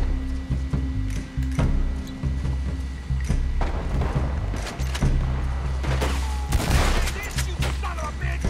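Shotgun blasts mixed with other gunfire in the Western game Red Dead Redemption 2, a dense fusillade of sharp cracks and heavy thuds over a low rumbling background, fairly loud and close.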